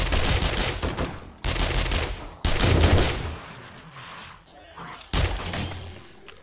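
Gunfire in the zombie survival video game 7 Days to Die, heavy loud bursts of rapid shots starting and stopping abruptly in several blocks with short gaps between them, no talking over it.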